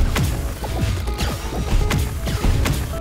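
Deep Rock Galactic's Wavecooker microwave weapon, used with the CRISPR flamethrower to trigger temperature shock, produces a loud, dense run of crashing, smashing impacts and sharp bursts in quick succession, with no talking.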